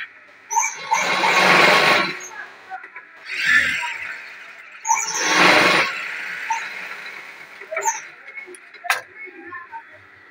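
A sewing machine stitches a mattress in bursts, each run a loud, fast mechanical whir lasting about a second or two, separated by short pauses and a few small clicks.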